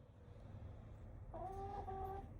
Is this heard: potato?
no